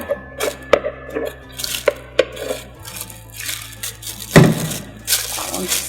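Beef stew with a litre of beef stock being stirred in a slow cooker, giving soft wet sloshes, scrapes and a few clinks of spoon on pot over a low steady hum.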